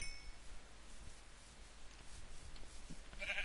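Sheep bleating in Minecraft, a short faint bleat near the end over quiet game background, with a brief clink earlier.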